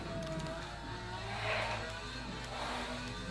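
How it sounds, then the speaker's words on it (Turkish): A car engine in the Forza Horizon racing game played on a Samsung 75Q60R TV, a steady droning hum that swells slightly partway through and holds at a constant moderate level, with no speech. "arabanın sesini duyuyorum"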